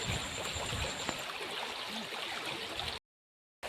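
Water rushes steadily through a village irrigation canal, a close, continuous broadband flow that cuts off abruptly into near-silence before briefly resuming.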